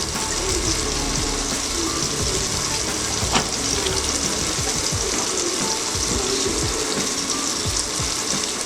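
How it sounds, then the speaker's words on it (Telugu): Tomatoes fry in a pan with a continuous bright sizzle and crackle, plus occasional scraping stirs and light clinks, close and steady throughout. "టొమాటోస్ బాగా ఫ్రై అవ్వాలి."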